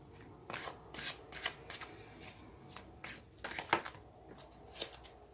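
Tarot cards shuffled by hand in a quiet room, a quick run of soft riffling bursts and slaps at an irregular rhythm, faint and close.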